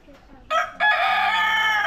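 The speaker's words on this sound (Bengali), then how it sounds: "মুরগি আছে, অনেক ধরনের মুরগি।" A rooster crows loudly and close by among several kinds of chickens, a single sustained crow after a brief first note, with faint background noise before it.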